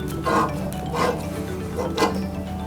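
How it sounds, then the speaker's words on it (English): A pipe cutter turns around copper pipe during water heater removal, making repeated scraping, rasping strokes close by at a steady rhythm with no talk. "and then it's gonna just cut the copper pipe"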